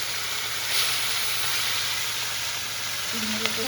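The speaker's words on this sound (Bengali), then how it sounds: "চলো ভাজতে দিই, গরম হয়ে গেছে, অল্প অল্প করে দেবো" Small mourola fish frying in hot oil, a steady broad sizzle and hiss running throughout at moderate level, with a faint clink near the end.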